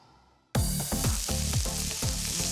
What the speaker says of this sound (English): Sauteing a little onion and garlic.